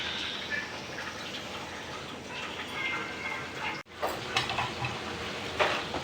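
Okra frying in a pan while a home cook prepares an okra curry, okra fry and sambar, giving a steady close sizzle and crackle with stirring scrapes, briefly cut off near the middle then resuming.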